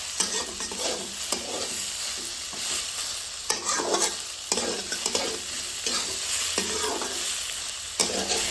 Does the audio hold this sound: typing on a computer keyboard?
no